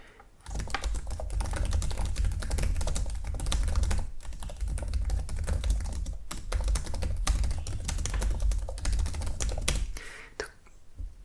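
Fingernails tapping on a computer keyboard, a dense rapid clatter of key clicks running almost continuously at close range, with a couple of brief pauses and no voice.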